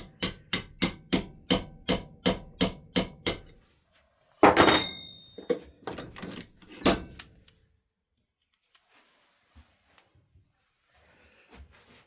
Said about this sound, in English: my next step is going to be to put this in the vise, hammer that out